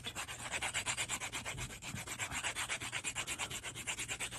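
Half-round sanding tool wrapped in sandpaper rubbing polymer clay in quick, even back-and-forth strokes, a steady rhythmic scratchy rasp heard close up with no talking.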